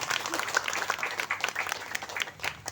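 An audience at an Islamic religious gathering applauds in a lively, uneven burst of clapping that rises and falls, with faint voices mixed into the crowd.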